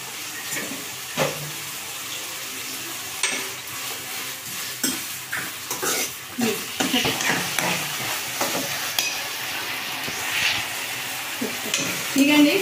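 Chicken sizzles in a pan for a dhaba-style chicken curry, a steady close frying hiss broken by repeated stirring scrapes and clatters of the spoon.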